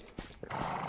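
A horse in the survival video game INCUR Survival whinnies after a couple of hoof clops, a loud, close neigh that carries to the end.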